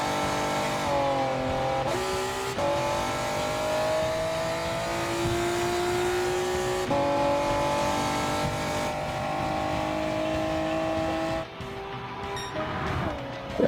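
A race car in Gran Turismo 7 revs hard through its gears, the engine note climbing, dropping at each shift and climbing again, loud and continuous, with a brief tire squeal near the end.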